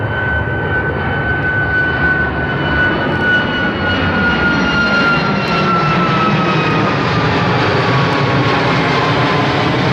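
An Alaska Airlines jet takes off from runway 34 right at Seattle-Tacoma International Airport, a loud continuous engine roar with a steady high whine that slowly drops in pitch, heard alone without talk.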